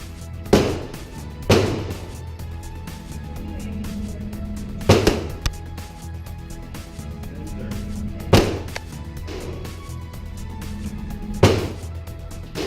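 Handgun shots fired at point blank range in a target acquisition drill at an outdoor range in Matthews, NC: five loud, sharp reports spaced a few seconds apart, each with a short echoing tail, no talking.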